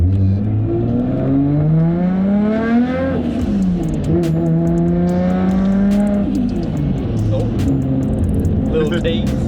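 A Nissan R32 GTR engine revs hard through rising and falling pitch sweeps, climbing high, dropping and climbing again, loud and close with a rough exhaust, as voices talk underneath.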